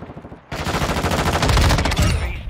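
Rapid automatic fire from the M13 rifle in Modern Warfare 2 bursts in loud and close, a dense chattering volley that carries on without a break for about two seconds.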